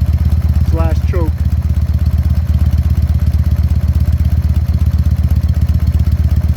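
A Harley-Davidson Sportster XLC engine idles steadily on the choke (enrichener) while warming up, its loud, close, even pulsing continuing throughout, with a brief squeaky mechanical sound near the start.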